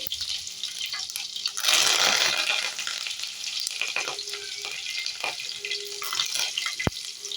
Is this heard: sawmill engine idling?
no